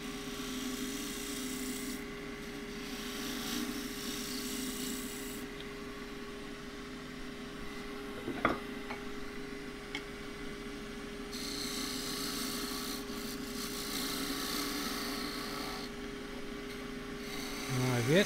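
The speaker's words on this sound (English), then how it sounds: "come back with the scraper again" Steady rasping hiss of a scraper cutting wood on a lathe while turning a Christmas bell, continuous and close, with a sharp knock midway and a motor hum underneath.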